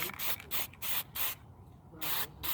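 Short bursts of spray paint hiss onto a Sears Craftsman front-tine roto-tiller's Briggs 8hp motor, about seven quick sprays in a rhythmic series with a short pause, close and moderately loud.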